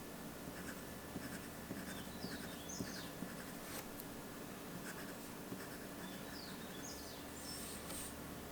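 Fine nib of a Leonardo Momento Zero fountain pen scratching steadily across paper, a faint continuous scritch with small stroke accents, close up and alone in a quiet room with distant birdsong.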